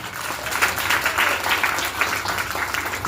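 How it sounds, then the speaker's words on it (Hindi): A congregation at a Christian worship service applauds loudly, dense continuous clapping from a crowd filling the whole stretch without a break. "जोरदार ताली उस परमेश्वर का लगे।"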